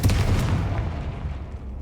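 A Confringo fire spell explodes in Hogwarts Legacy, a single loud, boomy blast that hits at once and then rolls off into a low rumbling decay.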